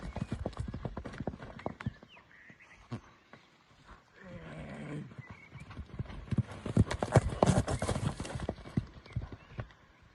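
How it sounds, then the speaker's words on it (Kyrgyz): A large horse's hooves clip-clop on firm ground, close and fairly quiet, in a dense irregular patter that thins out midway and then picks up again, with a faint snort or neigh in between. "Ат өтө зор экен"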